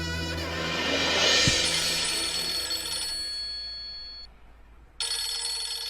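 A phone ringtone plays while a call is being placed, a melodic electronic tune heard fairly close that fades out, pauses briefly and then resumes, with no talk.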